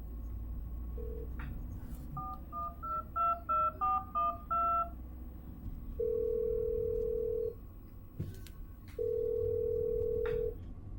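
Telephone keypad dialing tones, a quick run of short beeps, then two long steady tones separated by a gap, fairly clear over a low rumble from inside a car, no voices.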